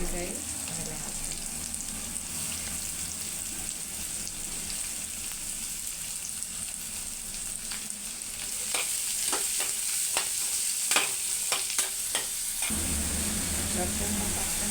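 Onion, radish, tomato and brinjal frying in a pan after tempering, a dense continuous sizzle with a burst of stirring scrapes partway through, close and loud.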